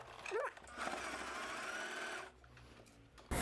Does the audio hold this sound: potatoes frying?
no